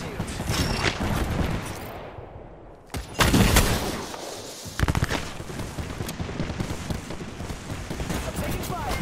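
Gunfire in Apex Legends, rapid bursts of shots and loud impacts cracking close by, with a short lull before firing resumes heavily; a voice speaks over the fight.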